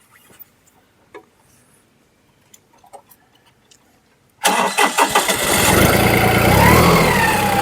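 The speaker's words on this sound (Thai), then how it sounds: "สตาร์ทติดง่ายนะครับผม สตาร์ทติดง่ายนะครับ" An Iseki 213 crawler tractor, imported from Japan, cranks and fires up. A few quiet clicks and taps come first, then the engine bursts to life and settles into a loud, steady, close idle.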